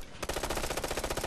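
Rapid automatic gunfire in Ghost Recon Future Soldier, a loud, steady burst of fast repeated shots starting abruptly and continuing to the end.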